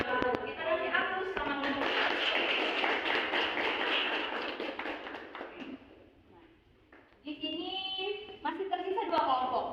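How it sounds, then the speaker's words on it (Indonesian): Applause for a student group presenting in a classroom, a dense burst of clapping for about five seconds that fades out, with children's voices talking before and after. "Kita kasih aplaus sama kelompok."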